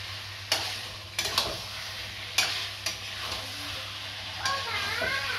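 Chicken curry with tomato sautéing in a pan, with sharp intermittent clacks of stirring over a faint steady sizzle, fairly quiet and close.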